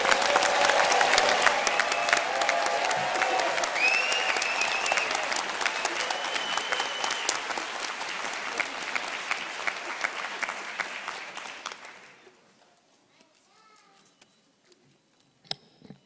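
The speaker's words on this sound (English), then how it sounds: "Please give them a round of applause." A large audience applauds at a winter doctoral graduation ceremony at George Mason University, dense sustained clapping for about twelve seconds that fades out, followed by near silence with a few faint sounds.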